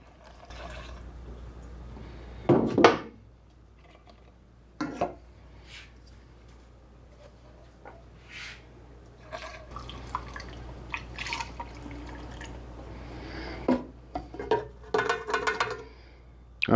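A 50-50 mix of automatic transmission fluid and acetone trickles and drips into a translucent one-gallon jug, with soft intermittent splashes and a few sharper knocks of the container in a quiet room.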